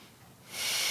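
A single yoga breath heard up close, starting as a faint, quiet draw and swelling into a louder, airy exhale in the last half second.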